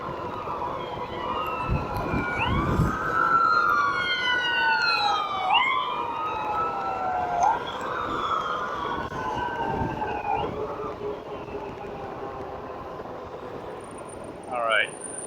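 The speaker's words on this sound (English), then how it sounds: "oh, that's the ambulance." An ambulance siren wails and sweeps up and down in pitch as it passes fairly close on a road, loud and steady throughout with traffic noise beneath and a brief voice near the start.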